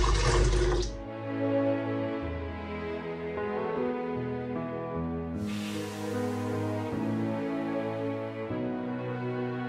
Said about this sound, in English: Into it, I'll add some water.